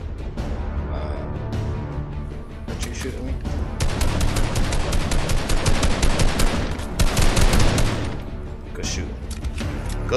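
Rapid gunfire in the Fortnite video game, bursts of automatic shots building to dense, loud volleys in the middle before easing, with voices faintly underneath.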